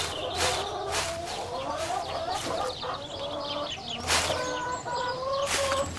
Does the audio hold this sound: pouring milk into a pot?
no